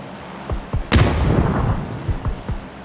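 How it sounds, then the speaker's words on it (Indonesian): A grenade blast in PUBG on the Sanhok map: one sharp, loud explosion with a long rumbling tail, set among scattered distant gunshots in a busy firefight. "Dia mau lempar granat."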